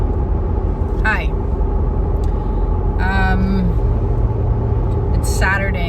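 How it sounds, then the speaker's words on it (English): Steady low road rumble of a car driving home, heard from inside the cabin, with brief higher tonal squeaks over the drone. "I'm driving back home"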